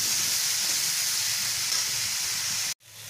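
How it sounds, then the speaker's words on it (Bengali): Papaya and potato fry in a pan with turmeric powder, giving a loud, steady sizzle and hiss that runs without a break, then cuts off abruptly near the end. "দিয়ে আমি পেঁপে আর আলুটাকে ভালো করে ভেজে নেব"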